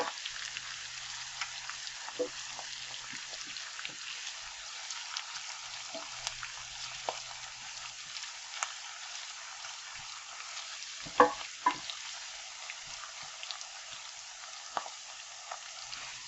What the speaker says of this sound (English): Just stir a little so it doesn't stick.